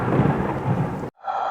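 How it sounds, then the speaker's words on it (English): A thunder and lightning sound effect rolls as a close, heavy rumble of thunder with a hiss like rain, then cuts off abruptly before a softer tone comes in. "cue that thunder and lightning"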